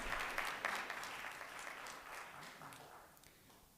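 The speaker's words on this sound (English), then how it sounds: "Please refrain from clapping." Scattered audience clapping at a city board of aldermen meeting, fairly faint and thinning out over a few seconds until it stops, with a sharp sound right at the end.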